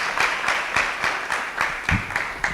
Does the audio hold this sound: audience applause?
yes